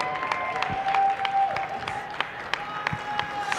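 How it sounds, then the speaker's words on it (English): Scattered clapping from spectators at a ballroom dance competition after a newcomer quickstep semifinal heat, individual claps ringing out over a sustained tone and background murmur, moderately loud. "some applause for that exciting quick step."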